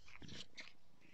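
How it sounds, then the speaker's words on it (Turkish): A playful cat in a home garden makes a couple of short, close meows in quick succession, with no talking. "Çok oyuncu bir kedi."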